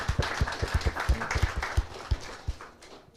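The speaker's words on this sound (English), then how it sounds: "let's give them a hand of applause as well" A small audience at a book launch gives a hand, with sparse, distinct claps in an uneven rhythm that fade out by the end.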